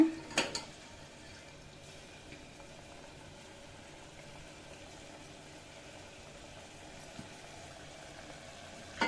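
Masala for egg pudina bath simmers in a pan with a quiet, steady low bubbling, faint throughout, with a couple of brief clatters at the start and end.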